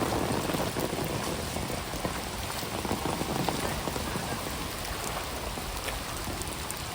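Heavy rain pours steadily and loudly during a flood, a dense, unbroken roar of drops hitting surfaces that holds the same intensity throughout, with no voices.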